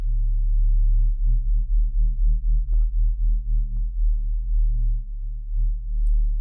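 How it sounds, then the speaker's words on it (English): A synth drone built from two detuned sine waves for a drum and bass intro, a low, pure tone that pulses in a steady wobbling beat as the two pitches drift against each other, with nothing else over it. "You just get 2 sine waves and you detune them from each other."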